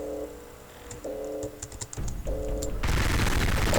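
A minigun fires at zombies in Garry's Mod. Soft clicks and short electronic beeps come first, then a dense, sustained roar of rapid fire fills the final second, loud and continuous, with no speech.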